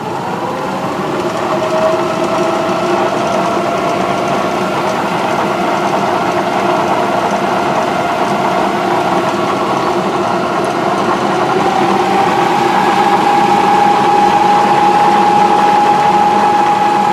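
A Bridgeport milling machine driven by a treadmill motor runs at low speed, giving a loud steady mechanical hum and whir with a faint high whine emerging partway through, no speech.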